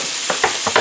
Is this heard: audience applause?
no